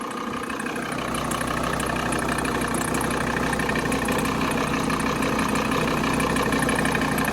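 A VW T4 Caravelle van engine idles steadily, a smooth even rumble with a constant mechanical hum that stays at one level throughout, with no voices.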